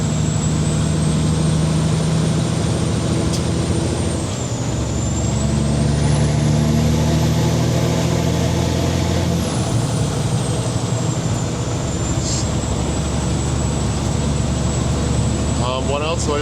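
A 605-horsepower truck engine with an 18-speed main transmission and 4-speed auxiliary, running loud and steady up close, its pitch rising and falling once. People talk over it.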